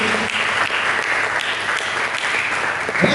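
Sustained, loud applause from a church congregation during a sermon, an even wash of many hands clapping with faint voices mixed in.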